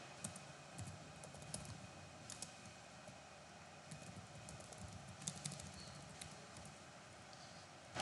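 Soft typing on a computer keyboard, heard as faint, irregular clicks under a steady background hum with no talking.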